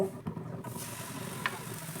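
Batter is poured onto a hot pan brushed with a little oil and sizzles close by, with a scraping stir at the start and a steady frying hiss afterward.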